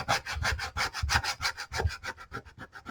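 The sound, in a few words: burnishing layered vinyl on a sign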